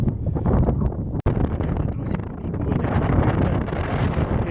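Strong south wind buffets the microphone outdoors on the Dnipro, a steady, low rumbling roar that barely lets up, broken only by a brief dropout.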